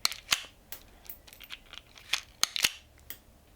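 Wire leads on a new CDI for a 1978 Honda CB 400 T motorcycle are cut off with snips, giving several sharp, close clicks and snaps at irregular intervals against a quiet background.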